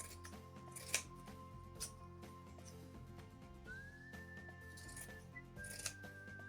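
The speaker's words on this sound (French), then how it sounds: "Et on coupe à peu près tous les 2 cm." Scissors snipping an old sock into rings, a few faint sharp cuts spaced about a second apart, over a low steady background hum and a thin tonal whine.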